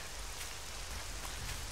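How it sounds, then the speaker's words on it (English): Dense, steady rain patters in Drop Dead, a broad continuous hiss with no breaks and no speech. "I'm hoping to get out of this damn rain."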